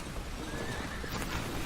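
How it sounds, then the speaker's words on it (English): Horses whinnying with hooves clopping on a Civil War-era patrol in a radio drama of The Twilight Zone, a brief whinny and scattered hoof knocks over a dense, steady background wash. "Horses, positive."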